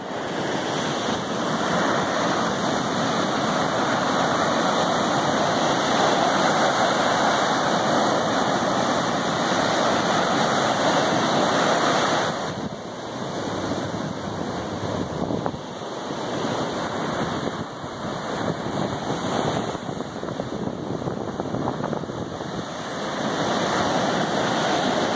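Ocean surf rolls in steadily at Mullaitivu beach in Sri Lanka, a loud, continuous roar of breaking waves with wind, dipping briefly midway before building again, with no talking.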